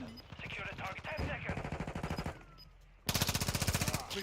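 Rapid automatic gunfire from a Modern Warfare 2 multiplayer match, loud close bursts of evenly spaced shots, a steady stream through the first half, a pause, then a sharper, louder burst near the end.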